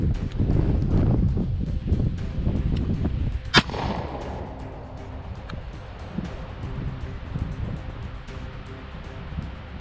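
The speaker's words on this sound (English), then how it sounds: "he'll be firing a warning shot in order to scare it away" A single sharp warning gunshot is fired outdoors to scare off a mountain lion, a loud crack with a short echoing tail over steady wind noise and faint rustling.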